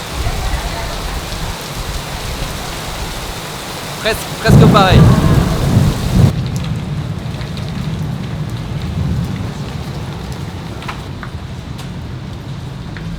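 Heavy rain pours down during a thunderstorm in Yokohama, a dense steady roar with a deep rumble of thunder partway through, while someone speaks briefly over it before the downpour eases slightly.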